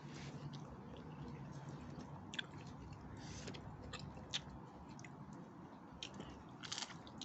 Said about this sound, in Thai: ฟังเสียงหย่ำแล้วแซ่บ